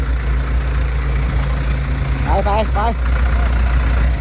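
Low steady rumble of an excavator engine running nearby under loud, close talk by several people.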